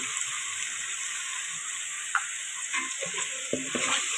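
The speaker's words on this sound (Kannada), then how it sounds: "ಶುಂಠಿ ಬೆಳ್ಳುಳ್ಳಿ ಪೇಸ್ಟ್ ಸ್ವಲ್ಪ ಎಣ್ಣೆಲ್ಲ ಫ್ರೈ ಆಗಿ ಇವತ್ತು ಈರುಳ್ಳಿ ಬೆಳ್ಳುಳ್ಳಿ ಪೇಸ್ಟ್ ಹಾಕ್ತಾಯಿದ್ದೀನಿ." Onion, garlic and ginger-garlic paste frying in oil over a medium flame for a fish curry, giving a steady, hissing sizzle with a few soft stirring knocks near the end.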